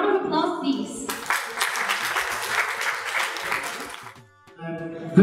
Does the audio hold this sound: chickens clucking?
no